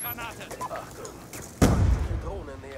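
A loud shotgun blast from a Call of Duty Black Ops 2 multiplayer match, a single sharp boom with a rumbling tail after quieter game sounds and talk.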